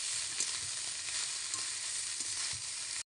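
Biryani with egg bhujia and salt is stirred in a hot pan, a continuous close sizzle with faint irregular stirring scrapes throughout, cutting off abruptly at the end. No voices.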